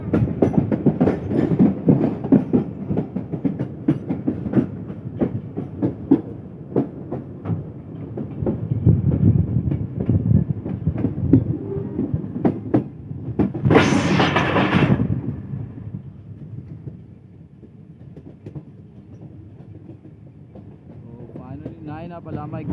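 The Iqbal Express passenger train races at speed toward Lodhran Junction in Pakistan: a loud, continuous rolling rumble with a steady clickety-clack of wheels over rail joints, a sharp hissing burst midway, then a quieter stretch.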